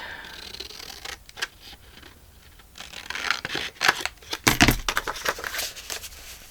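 Scissors snip through paper while the bottom of a page is trimmed for an altered book journal, with a few close, crisp cuts and rustling that grow louder toward the end.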